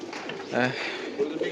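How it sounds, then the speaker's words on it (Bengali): Pigeons coo on a rooftop pigeon farm in a short, soft burst of throaty cooing, with someone talking over it. "এই যে এখানে আমরা কবুতর দেখতে পাচ্ছি ডাপে বসে আছে"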